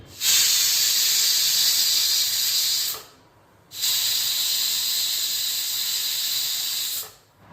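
A kitchen pressure cooker boiling mangoes vents steam in two long, loud, sharp hisses of about three seconds each, with a brief quiet break between them.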